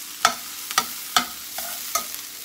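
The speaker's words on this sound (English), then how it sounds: "So just stir this up." Green pepper and onion, browned and well sautéed in a pan, stirred with five distinct scraping strokes at an uneven rhythm over a soft background sizzle, close up, no talking.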